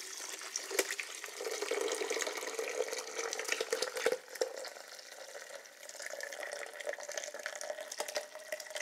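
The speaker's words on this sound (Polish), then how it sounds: "Delikatnie przelewam zupę." Hot horseradish cream soup being poured gently from a pot into a blender, a steady soft liquid stream with light splashing and clinks, fairly quiet and without talk.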